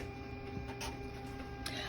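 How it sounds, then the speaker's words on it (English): A home inkjet printer prints onto printable vinyl, giving a steady mechanical whir with a light ticking carriage rhythm and brief louder passes, close by with no talk. "That's my printer."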